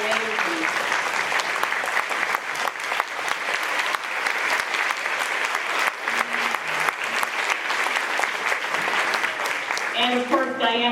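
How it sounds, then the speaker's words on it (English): An audience at a school's 100th-anniversary open house gives a long, loud round of applause after a video, steady dense clapping with voices talking and calling out over it and a few brief tones near the end. "big round of applause for that video."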